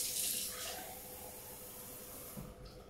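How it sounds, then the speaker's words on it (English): Tap water runs steadily from a faucet into a glass, a continuous close hissing splash that holds for the whole stretch with no talk over it. "if I just go and run a glass out straight out of the tap"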